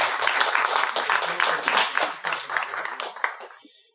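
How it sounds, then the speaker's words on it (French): A conference audience claps together, a fairly loud wash of applause that thins out and fades to silence over the last second. "que vous pouvez applaudir parce que je pense que c'est très bien"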